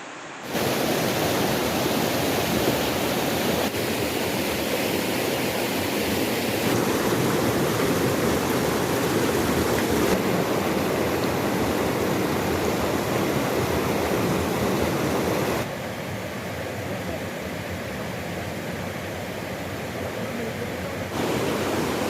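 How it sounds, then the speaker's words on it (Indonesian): The flooding Aek Mais river rushing and carrying logs down from upstream, a loud, continuous roar of churning water filling the whole stretch, easing slightly toward the end. "sungai yang menghanyutkan gelondongan kayu dari hulu sungai"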